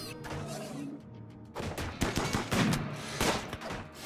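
Gunfire in the video game RimWorld during a fight against an insect infestation, a rapid irregular burst of shots rattling through the second half after a quieter start.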